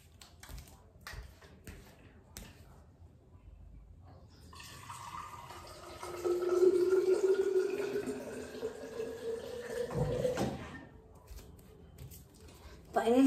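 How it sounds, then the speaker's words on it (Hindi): Tap water running into a plastic drinking bottle, filled only halfway, a steady rising pour of several seconds with a brief clatter near the end, while someone talks quietly before and after. "पूरे बॉटल में पानी भरना अभी मेरे से नहीं हो पाएगा, सो मैं जस्ट इसका हाफ ऑफ भर दिया"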